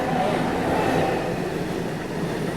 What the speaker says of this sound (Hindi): चंपा जंक्शन, जिसका हम बहुत देर से इंतजार कर रहे थे, वहाँ जाके फाइनली ट्रेन पहुँची है अभी